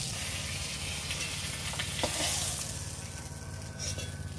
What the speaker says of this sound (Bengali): মাছগুলো তো খুব ভালো করে ভাজা হয়ে গেছে